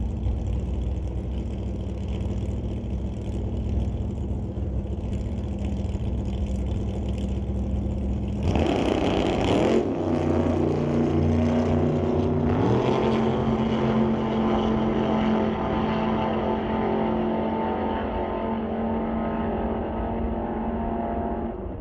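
A Chevy II and a Plymouth Duster drag race in a supercombo ET series event, giving a loud continuous engine roar that surges abruptly partway through, with shifting rising tones as the cars accelerate down the strip.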